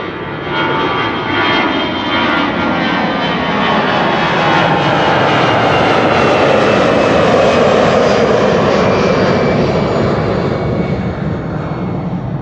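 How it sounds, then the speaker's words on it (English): An EasyJet jet airliner takes off at Amsterdam Schiphol Airport, its engines roaring loudly and continuously, the broad rushing thunder swelling and shifting as it passes at moderate distance. "That's because traffic is taking off here. This is EasyJet to Chester."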